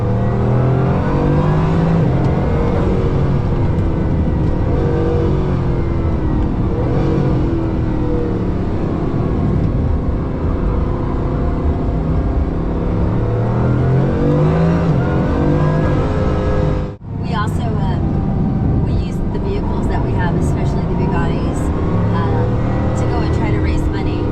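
A hypercar, a Pagani Huayra BC or Bugatti Chiron SS, accelerating hard around a track lap. The engine roars loud and unbroken with rising and falling pitch, drops out for a split second, then returns, with voices talking over it.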